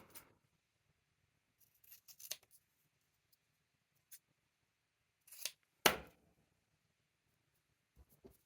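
A fabric stamp trimmed with scissors, a few quiet, separate snips and rustles spread across otherwise near-silent space, with one sharper cut standing out.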